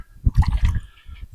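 Water from a leaking RV air conditioner at a campground splashes and drips in short, close, uneven bursts that fade to softer trickles.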